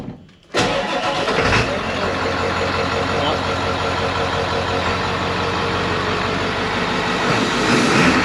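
Ford 7.3 Powerstroke diesel swapped into a Ford Bronco cranks and fires after a short quiet moment, then settles into a loud, steady, clattering idle that runs on close to the listener.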